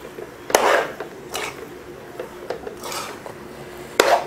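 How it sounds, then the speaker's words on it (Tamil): Mashed potato is stirred into onion masala in a metal pan, with several scraping clinks of a spoon against the pan and soft rubbing mush between them, close and clear, with no talking. "உருளைக்கிழங்கை போட்டு கலந்துக்கலாம்."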